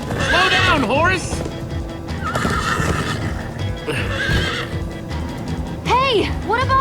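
Loud repeated neighs and whinnies from a galloping horse in Minecraft: Story Mode, with a running hoofbeat rhythm underneath and voices speaking over parts of it.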